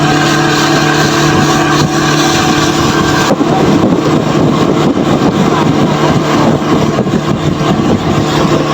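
Motorboat engine running steadily through a roughly 15-minute ride on the lake at Jheel Gadhberi near Rahim Yar Khan, a loud continuous drone with wind and water noise, no talk.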